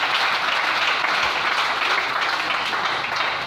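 A congregation bursts into steady, dense applause during a French-language church service, a continuous wash of clapping that holds at full strength for several seconds before easing slightly at the end.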